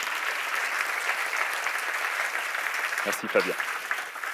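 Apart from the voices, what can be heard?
audience applause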